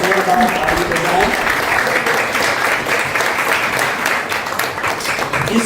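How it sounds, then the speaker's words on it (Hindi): Strong, continuous applause from a large gathering greets a visiting saint at a live satsang in a Houston temple, loud and unbroken throughout with a crowd murmur mixed in. "मैं चाहता हूं जोरदार ताली बजाएं।"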